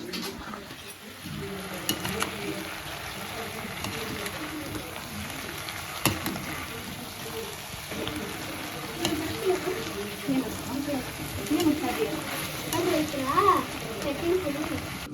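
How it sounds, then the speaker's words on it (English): Dry gobi tossed into soya sauce in a pan for Gobi Manchurian, giving a steady close-up sizzle with continuous stirring, scraping and occasional utensil clinks, while a voice talks over it. "Add dry gobi to sauce. Mix well."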